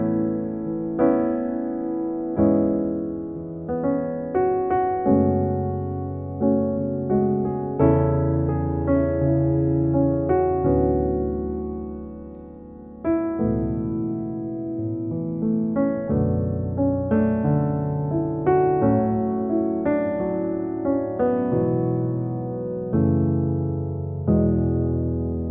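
Solo piano playing gospel jazz chords from the hymn Above All, rich sustained voicings struck in phrases with gentle decays and brief pauses, close and clear with no talking.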